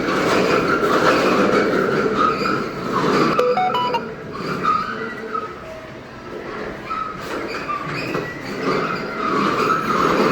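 A child drives a panda ride-on toy car. Its wheels roll and scrape in a loud, continuous rumble with rough skidding bursts, and voices are heard now and then.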